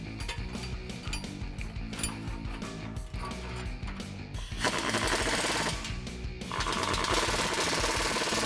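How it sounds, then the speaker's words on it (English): Tightening an exhaust clamp nut with a 15mm deep socket on a 5.7L Ram muffler install, rapid ratcheting clicks in quick bursts, close and loud, with a harsher continuous ratchet run near the end. "to tighten this down, you're gonna need a 15mm deep socket"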